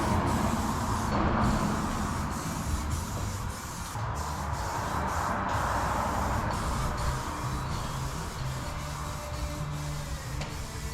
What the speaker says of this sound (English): then I'm going to spray it all